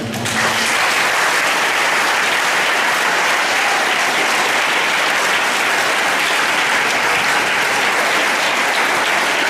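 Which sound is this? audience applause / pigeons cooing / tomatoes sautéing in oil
audience applause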